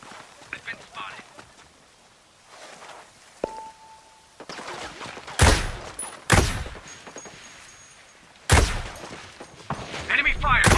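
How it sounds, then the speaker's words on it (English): Enemy gunfire in the video game Ghost Recon Breakpoint: several sharp, loud bursts of shots crack out in the second half, separated by quieter stretches with game ambience and a brief tone. "I hear enemy fire in the area. They're shooting."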